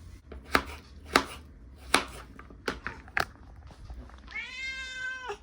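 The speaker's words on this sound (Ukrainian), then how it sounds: "Кіт прийшов, кричить їсти про все." Sharp knife chops carrots on a board, then a hungry cat's drawn-out meow, close and clear, rising near the end.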